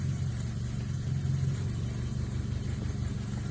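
A Proton Iswara car engine with a push-start button runs close by, a steady low rumble at idle with a slight swell in the middle.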